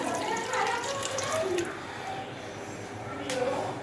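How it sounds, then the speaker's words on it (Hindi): Water pouring steadily into a metal pressure cooker, a continuous splashing rush that swells and eases, with a voice talking over it. "अब हम इसमें पानी डालेंगे। तकरीबन 6 गिलास हम पानी के डालेंगे इसमें।"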